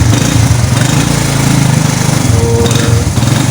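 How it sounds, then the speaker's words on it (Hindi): Motorbike engine running close by, a loud, steady chugging idle with fast rhythmic pulsing and mechanical rattle throughout, no talk. "चलिए हम जो है बाइक को स्टार्ट करते हैं।"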